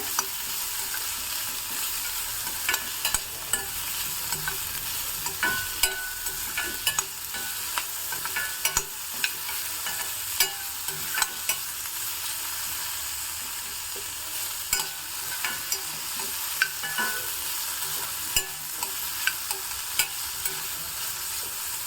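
Cucumber pieces are being fried and stirred in a pan for a traditional home-style dish. A continuous sizzle runs under repeated sharp scrapes and clicks of a spatula on the pan, with no talking.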